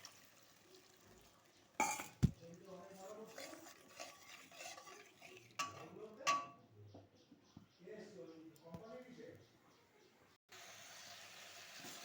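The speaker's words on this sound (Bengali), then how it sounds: "লবণ দিয়ে হলুদ দিয়ে এবার একটু নাড়াচাড়া করব।" Bitter gourd being stirred in a pan with salt and turmeric, scraping and clinking in a few sharp bursts near the start and then softer, while a voice talks steadily over most of it.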